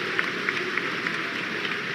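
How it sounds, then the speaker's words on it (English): Scattered applause from a stadium crowd at a Premier League match as Mo Salah warms up, a steady soft ripple of clapping heard from a distance. "There's a ripple of applause for him."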